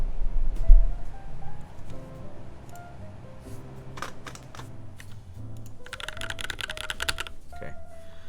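Rapid keystrokes on a TriC 80 custom mechanical keyboard during a typing test, a steady close clatter of key presses that grows denser and brighter toward the end, with faint background tones.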